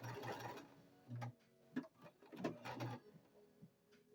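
Sewing machine stitching a quarter-inch seam with back stitches, heard as quiet bursts of fast mechanical whirring and ticking that start and stop, with soft clicks in between.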